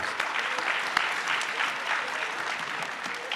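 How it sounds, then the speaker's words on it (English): Sustained applause from a crowd at an African National Congress provincial conference in the Eastern Cape, steady clapping filling the space without pause, with no talking over it. "Let's give Mawetu another round of applause, please."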